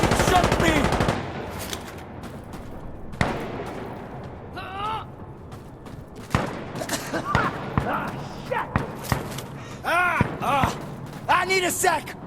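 Automatic gunfire rattles in the video game Insurgency Sandstorm, loud bursts and single shots close by and farther off, mixed with shouting voices throughout.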